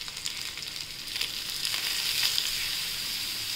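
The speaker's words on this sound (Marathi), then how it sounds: "आता आपण हिरवी मिरची आणि तिखट टाकून आपण वाटलं होतं ते टाकूया। आता आपण परतून घेऊया छान।" Green chili and chili powder sauté in a hot pan of oil while tempering spicy buttermilk chapati, giving a steady, close sizzle that swells a little partway through and then holds, with no voices.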